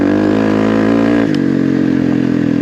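A Kawasaki KLX300R dirt bike fitted with an EJK fuel tuner accelerates hard, its loud, close engine note buzzing strongly before dropping in pitch after a shift partway through.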